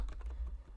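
Quiet, close typing on a computer keyboard, a rapid run of soft keystrokes with no voices.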